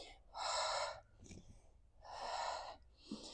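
Two long, airy breaths during a reformer Pilates session, each a steady hissing exhale of about half a second, close to the mic, separated by brief quiet gaps.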